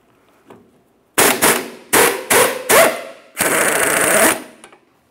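Sharp metal-on-metal hammer strikes drive a bolt out of the front control arm of a 2003-2007 Honda Accord, with four separate loud blows followed by a longer burst of rapid ringing impacts, close and alone.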